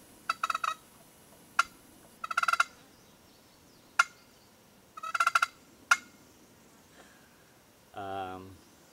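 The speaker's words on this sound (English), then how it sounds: "Now you want to purr on this thing." A wooden scratch box turkey call is worked in short bursts of rapid clucks and purring rattles, several groups spaced apart, followed by a low, resonant tone at the end; close and fairly quiet.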